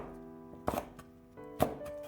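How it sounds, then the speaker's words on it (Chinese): A knife slices bird's eye chili peppers at an angle on a cutting board: two crisp, separate chops about a second apart, close and clear over a quiet background. "几个小米辣给它斜刀切成片"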